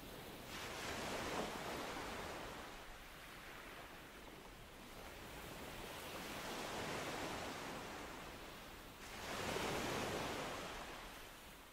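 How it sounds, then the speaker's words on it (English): Gentle ocean waves wash and break on sand in slow, soft swells on a calm evening shore, a steady broadband rush that rises and falls, with a louder surge near the end and no voices. "It is very calm, and the waves break like small sighs against"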